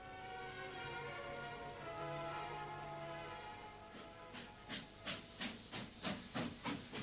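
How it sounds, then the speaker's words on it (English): A steam train departs: a steady hiss of steam gives way to rhythmic chuffs that quicken as it pulls away, all moderately faint and with no voices. "The train left, and Fix stayed behind."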